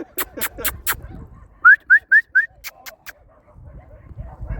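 Dogs near the Tbilisi Sea sound off close by: a few sharp barks, then four quick rising whimper-like yelps in a row, followed by more short barks over a low rumble of background noise.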